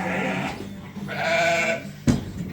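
Sheep bleating loudly during shearing on a farm, two long strained calls close by, followed by a sharp bump or thud near the end.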